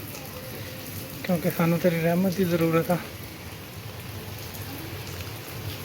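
Steady midday rain falling in a village, a soft continuous hiss throughout with someone speaking briefly over it in the middle.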